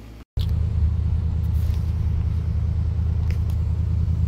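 Steady low engine rumble and road noise from a 1971 Cadillac Coupe DeVille driving along after a DIY alignment, continuous and close, with a brief dropout near the start.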